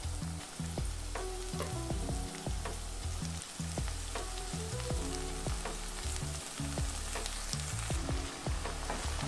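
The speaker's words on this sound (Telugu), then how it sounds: "ఇప్పుడు మనం ఇందులోకి ఆకుకూర వేసుకుందాం" Amaranth greens fry with onion in a pan, a quiet, steady sizzle with scattered crackles and rhythmic stirring scrapes, heard close up with no voices.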